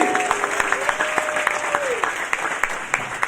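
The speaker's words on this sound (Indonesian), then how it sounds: "Tepuk tangan sekali lagi." Applause from a church revival service audience in Ambon, a scattered patter of many hands clapping at moderate volume, with a sustained musical tone lingering underneath.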